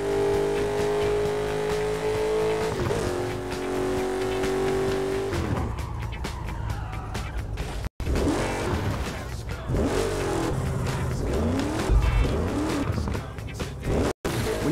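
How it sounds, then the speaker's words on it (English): Burnout Paradise car gameplay on PS3: a loud, sustained engine roar that shifts pitch as the car spins under the e-brake, with tires skidding and squealing close up. "Hit the e-brake to spin your car."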